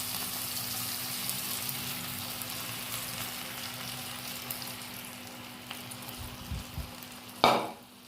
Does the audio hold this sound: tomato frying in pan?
yes